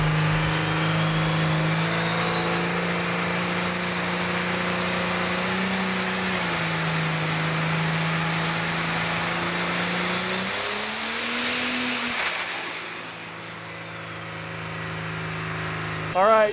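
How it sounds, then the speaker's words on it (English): A diesel truck engine on a dynamometer drones steadily, its pitch stepping up and down under load, then surges into a louder high-revving pull with more fuel before easing off. "We turn the fuel up a little bit and just do another roll here, another pull."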